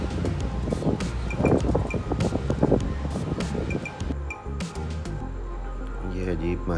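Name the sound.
strong wind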